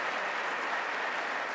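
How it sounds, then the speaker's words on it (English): Audience at a regional economic development awards ceremony applauding the mayor of Albany, a steady wash of clapping at moderate level with no speech over it. "She deserves that applause"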